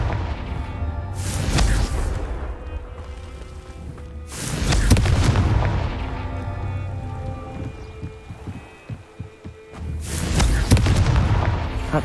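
Confringo fire blast spell in Hogwarts Legacy: three loud, booming explosive bursts a few seconds apart, each with a rumbling tail over a continuous low ambient roar.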